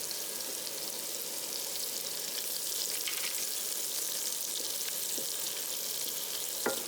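Chopped onion fries in melting butter in a pan, a soft, steady sizzle and crackle that runs evenly throughout, fairly quiet, with a few faint stirring taps.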